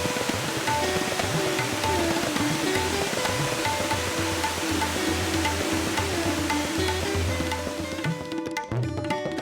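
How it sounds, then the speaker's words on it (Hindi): Rajdari waterfall dropping about 65 feet onto rocks below, a loud, continuous roar of falling water that stays dense and steady throughout. "पानी के गिरने की तेज आवाज पर्यटकों को मंत्रमुग्ध कर देती है"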